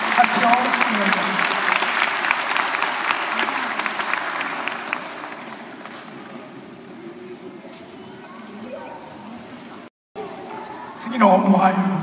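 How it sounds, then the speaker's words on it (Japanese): Audience applause at a 2017 aikido demonstration in Urayasu, strong at first and then thinning into murmuring crowd chatter, with a brief cut near the end before noise rises again. "素晴らしい拍手をお願いいたします"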